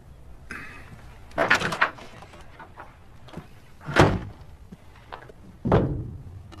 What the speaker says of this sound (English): I mean, close the door with you on the other side.